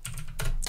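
Fast typing on a computer keyboard, with three quick bursts of clicking keys close to the microphone and no talk.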